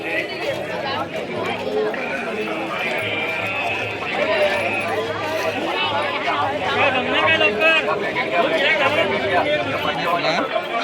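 Crowd chatter at a village jatra fair in Konkan during Gudhi Padwa, a dense, lively babble of many voices among market stalls, with close speakers talking over the steady hubbub.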